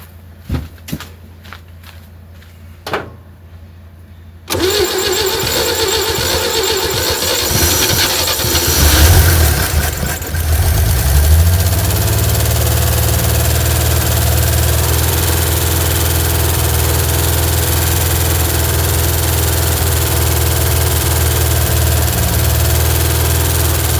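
A 1960 Chevy C10 pickup engine, run after sitting for decades, cranks briefly after a few clicks, then catches and settles into a loud, steady idle that swells once as the revs rise before holding even.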